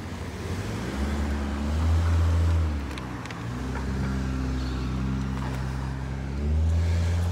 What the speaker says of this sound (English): For this traffic to go by